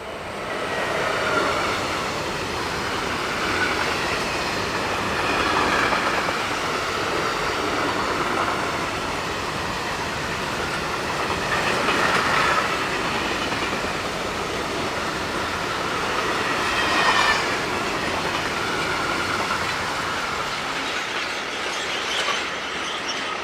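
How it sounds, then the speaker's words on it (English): A long freight train of grain hoppers, hauled by Austrian locomotive 1293, rolls steadily past near Seelze, Germany, its wheels clattering and occasionally squealing, with a continuous rumble that swells and fades slightly. "Austria's 1293188 heads a rake of grain hoppers."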